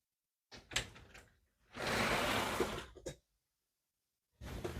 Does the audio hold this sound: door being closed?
yes